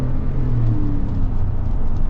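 Chevy Tahoe RST with a 6.2 V8 accelerating, a loud close engine rumble with a rising tone through a short burst of throttle, no talking.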